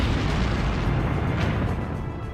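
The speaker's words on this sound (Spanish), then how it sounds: "La fuerza de la explosión paró la batalla en seco." Mines detonated beneath the fortress walls during the siege of Kazan make a dense, continuous roaring rumble that stays loud and broad for the whole stretch, with no voices over it.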